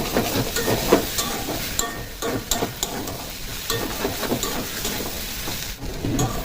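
Taro stolons sizzle and crackle in a hot pan, a steady frying hiss with occasional scrapes and stirring clatter, close and continuous.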